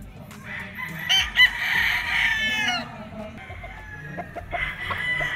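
Golden Boy sweater gamefowl roosters tethered at a game farm crow loudly in overlapping calls, some near and some farther off, with clucking and faint background noise between crows.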